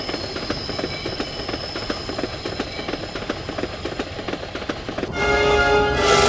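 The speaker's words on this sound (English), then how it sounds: "I've got to stop this train." Train cars clatter along rails in the Spider-Man 2 video game, a steady rhythmic clack of wheels at close range, swelling into a louder, brighter rush with a squealing metallic tone near the end.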